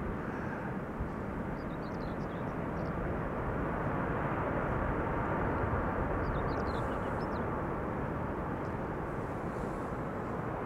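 A Boeing 777 taxiing at an airport makes a steady, loud, broadband jet roar that holds constant throughout, with a few faint high whines over the top.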